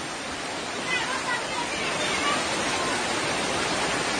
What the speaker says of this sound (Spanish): la presión que tiene esta agua, ¿no?